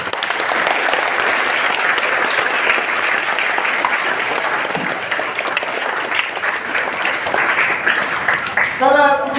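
Students at a school assembly at Lokmanya Tilak Vidyalaya, Chandrapur, clap in a sustained, dense round of applause that holds steady for several seconds before a voice begins speaking at the very end.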